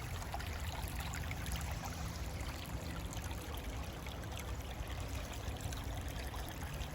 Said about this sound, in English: We found a stream.